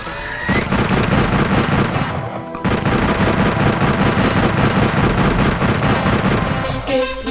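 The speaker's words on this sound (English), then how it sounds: "guns." Dense, relentless gunfire from the video game Beat Ball 2, rapid shots and booms rattling almost nonstop for several seconds with a brief gap midway, loud and close with no talk over it.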